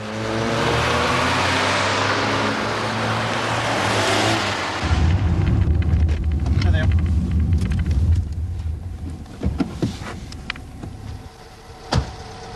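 Two cars speed down Broomfield Avenue, a suburban street, with a loud rushing engine roar that gives way to rumbling motor noise and sharp knocks.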